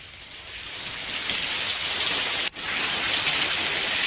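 Steady rain pours down, a loud, even hiss that grows slightly and holds, broken only by a single momentary dropout.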